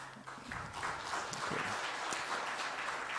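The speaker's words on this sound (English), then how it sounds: "Let's give them a round of applause." Quiet, dense applause for panelists at a conference side event, a soft continuous patter of clapping that fills the room after a short pause, heard at a distance.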